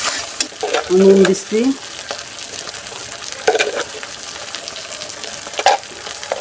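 Ground spice paste with garlic and bay leaf sizzles and spits in hot oil as it is stirred in a pan for a chicken curry; the frying hiss is steady, with scraping strokes and a brief spoken remark.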